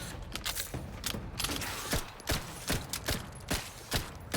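Rapid SMG gunfire in The Outer Worlds 2, a string of sharp mechanical shots in uneven bursts, fairly quiet and close, with clicking between the reports.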